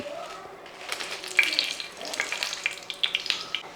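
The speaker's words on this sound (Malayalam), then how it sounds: "ഈ എണ്ണ ചൂടായതിൻ്റെ അകത്തോട്ട് ഈ മുളക് അങ്ങോട്ട് ഇട്ട് കൊടുക്കുക" Kashmiri chillies dropped into hot coconut oil crackle and sizzle, with a rising burst of bubbling spits and pops close by that settles into an uneven fry.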